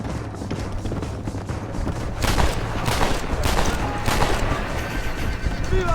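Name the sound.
gunfire in a video game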